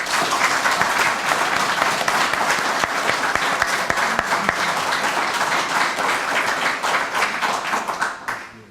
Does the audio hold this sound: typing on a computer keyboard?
no